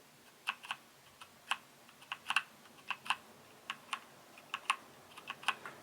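A Keychron K2 mechanical keyboard with Gateron brown switches being typed on, with irregular clacky keystrokes, some single and some in quick pairs, heard close up and fairly quiet, without speech.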